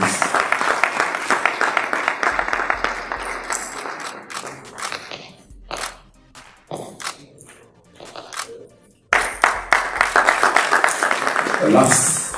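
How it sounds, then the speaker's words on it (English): Audience applause at a gathering, bursts of clapping that rise and fall with quieter gaps and a few scattered claps between, swelling strongly again near the end. "A round of applause for him, please."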